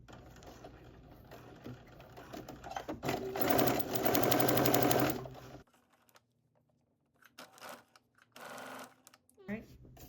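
A sewing machine back stitches across the top of a sweatsuit pocket in one loud, fast whirring run, then several shorter stop-start bursts, with a voice speaking in between.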